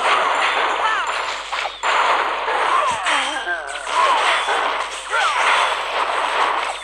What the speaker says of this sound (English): Giant bomb.